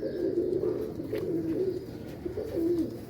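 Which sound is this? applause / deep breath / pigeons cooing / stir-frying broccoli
pigeons cooing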